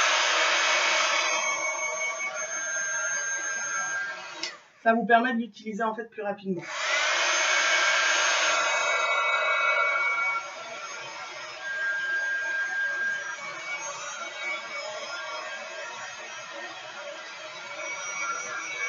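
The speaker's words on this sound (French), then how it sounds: "si vous avez le pistolet chauffant à côté de vous" A heat gun drying watercolor paper blows with a steady, loud whooshing hum that briefly cuts out partway through, while someone talks over it.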